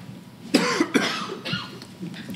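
A few sharp coughs close by, bursting out one after another with brief pauses, followed by a quieter rough cough in a small, slightly echoing room.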